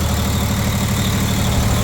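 A Kirloskar 25 kVA open diesel generator with an RB33 engine runs steadily, giving a loud, continuous low-pitched rumble with an even mechanical hum and no break.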